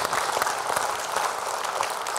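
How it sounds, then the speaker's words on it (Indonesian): Dense, steady audience applause fills an Indonesian television talk-show studio during a discussion on political corruption, the many hands blending into a continuous wash with no voices rising above it. "kita berikan tepuk tangan terlebih dahulu"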